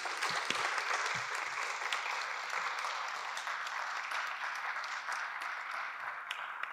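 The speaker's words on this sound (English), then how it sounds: "So, can we give Phil a round of applause," An audience at a freedom lecture applauds the lecturer, a steady, moderately distant wash of many hands clapping that holds evenly throughout.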